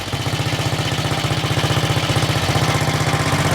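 A pre-war Vincent HRD Comet vintage British motorcycle's single-cylinder engine runs just after a kick start, a steady close thumping idle with fast, even pulses.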